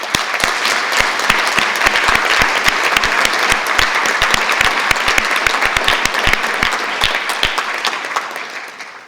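Steady, dense applause fills an award ceremony hall for a drawing prize, loud and continuous with crisp individual claps standing out, then thinning slightly toward the end.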